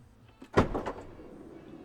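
Automatic sliding door on a VW ID Buzz van opening in winter in Norway: a short motorised whir with a soft thump at the start, close and fairly quiet, alone without speech.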